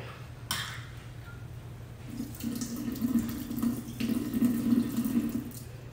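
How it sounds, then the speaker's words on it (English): Black olive juice drains from a can into a sink, a steady trickling pour of liquid that builds slightly over a few seconds, close up with no voices. "I'm going to drain them, though, okay? Because we don't want black olive juice in our salad."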